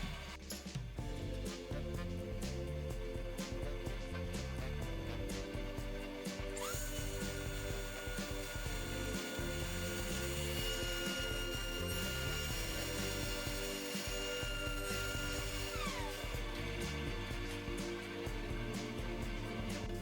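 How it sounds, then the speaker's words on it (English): A power tool cuts a dado in walnut in several passes, giving a steady mechanical whir with a repeating rhythmic pattern under a shifting high-pitched cutting noise, close and continuous throughout, with no talking. "I make these cuts in a few passes as walnut is prone to tear out and chipping."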